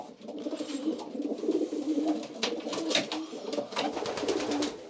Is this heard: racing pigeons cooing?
yes